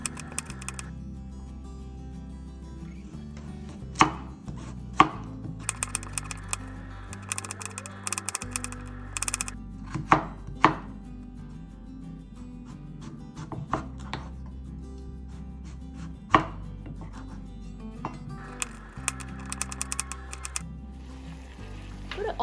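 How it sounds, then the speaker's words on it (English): Vegetables being chopped into matchsticks with a knife for miso soup, a series of irregular, crisp, close knife taps against a cutting board, some in quick bursts, over a soft background with music underneath. "Chop all the vegetables into matchsticks."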